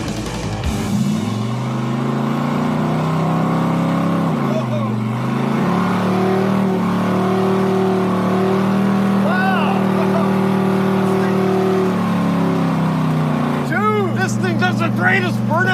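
A 1971 Plymouth Satellite roars through a sustained burnout, its engine droning loudly at high revs for many seconds, with short rev surges at the start and end and excited voices under it.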